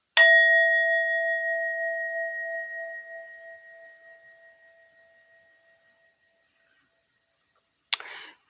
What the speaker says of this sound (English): we'll just ding the bell and then we'll get straight into it.